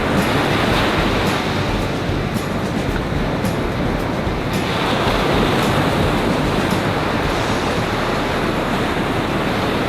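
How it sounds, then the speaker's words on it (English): Surf waves wash continuously up a beach during light surf fishing, a steady broad roar with no clear breaks and no voices. "a surging wave to wash it up the beach"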